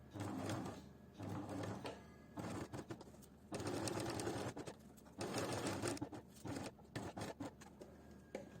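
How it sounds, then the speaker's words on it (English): A sewing machine stitches a half-inch seam on a simple everyday top, running in several short bursts of rapid mechanical whirring separated by brief pauses, close and clear with no talking. "we are going to be sewing a 1/2 inch seam allowance"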